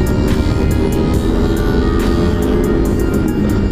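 A loud, close motorcycle engine rumbles steadily throughout while riding through a village in Indonesia, with brief bursts of wind buffeting over the droning motor.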